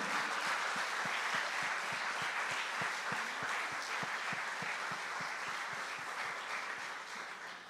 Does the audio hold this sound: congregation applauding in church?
yes